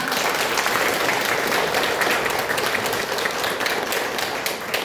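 A crowd applauds at a World Autism Awareness Day event held by the Łuków forest district, with dense, steady clapping that runs loud and even from start to finish.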